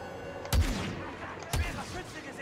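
Two sharp gunshots about a second apart in a Star Wars Battlefront II firefight, each a loud broadband crack with a booming low tail over steady game background noise.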